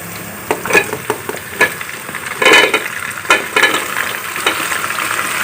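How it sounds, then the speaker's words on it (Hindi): Eggplant pieces dropped into a pan of lightly browned onions for an aubergine and potato curry, giving a steady close sizzle with repeated scraping stir strokes and a louder hiss burst partway through, no talking. "अब बैंगन डालेंगे इसके अंदर।"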